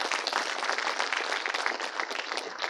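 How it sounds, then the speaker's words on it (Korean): Audience applause for a guest lecturer at a school patriotic concert in Cheongju, a dense, steady wash of many hands clapping at an even level throughout, with no voices standing out. "송경호 마인드 강사님께 다시 한번 큰 박수 부탁드립니다."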